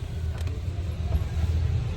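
Cabin hum inside a car with its engine running, a steady low rumble throughout with a faint brief knock or two and no speech.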